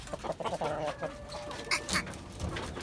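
Hens cluck on a rooftop poultry setup where a hen has been sitting to lay eggs, with a steady run of close, busy clucks and a couple of sharper squawks near the end.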